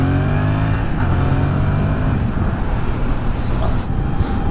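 A motorcycle pulls away and rides off, its engine droning steadily under heavy wind rush at the microphone. The sound stays loud and continuous throughout.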